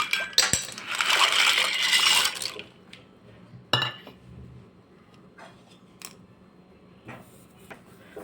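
About a cup of dry pasta tipped into a pot of water with a spoonful of oil for homemade pasta gives a loud, close burst of hard rattling clatter lasting about two seconds, then a few scattered soft clinks and knocks.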